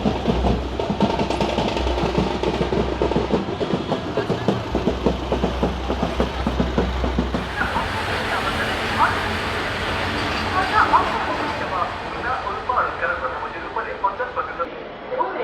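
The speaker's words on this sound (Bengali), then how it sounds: "এসে গেছে আমাদের train 12666 Kanyakumari Howrah superfast express." The 12666 Kanyakumari–Howrah Superfast Express pulls into a station. A low rumble and rolling rail clatter come from close by, with station announcements and people talking over the train.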